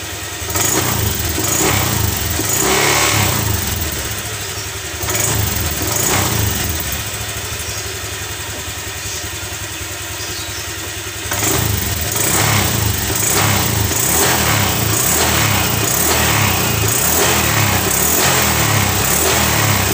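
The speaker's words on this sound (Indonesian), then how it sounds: "Di samping itu suara knalpot sudah berubah." A loud motorcycle engine with a modified exhaust idles with a rough, raspy exhaust note, revving up in several bursts before settling back to a steady drone.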